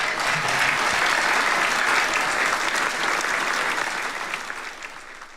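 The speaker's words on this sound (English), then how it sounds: "let me give myself a hand clap" Steady, dense applause of many clapping hands fills the space without a break and tapers off slightly toward the end, with no voices over it.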